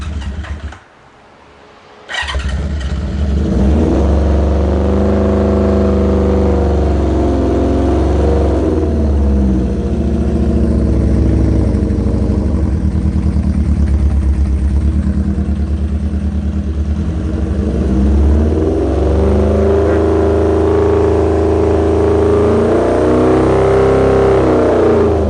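A motorcycle engine fires up with the choke on after a brief cranking catch, then runs loudly and steadily at a rough, throbbing idle, with slight rises in revs toward the end.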